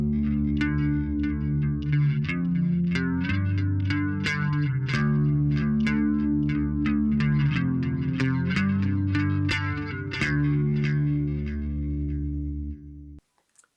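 Bass guitar run through chorus, distortion and echo effects, a thick sustained riff with picked accents that rings for several bars then cuts off abruptly.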